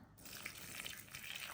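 Boiling water pours steadily over dried fruit that has been sprinkled with orange blossom water, a continuous close splashing gush that runs through the whole moment without any voices.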